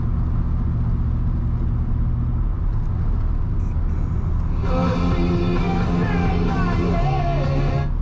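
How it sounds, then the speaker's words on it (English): A 1985 Chevrolet C10 Silverado pickup engine runs at a steady, loud idle, its low rumble constant throughout, with a brief higher whine joining partway through. "This truck starts up and idles right away."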